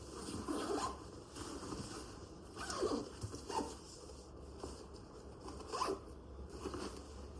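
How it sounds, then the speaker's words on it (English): Zippers being drawn closed around the straps of an REI RuckPack 40L travel backpack, several separate rasping zip strokes in a row, close and moderately loud with no talking. "And then you can just zip up all your straps."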